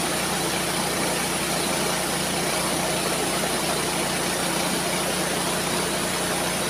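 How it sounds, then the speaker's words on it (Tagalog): A Canter truck engine runs steadily during repair work, a continuous broadband mechanical drone that holds even and fairly loud throughout with no pauses. "nag-aayos ng makina mga canter"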